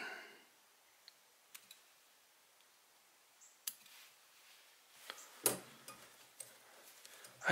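Scissors trim a pheasant tail feather tip during fly tying: a few faint, sharp snips and clicks scattered in near quiet, the clearest cuts coming toward the end.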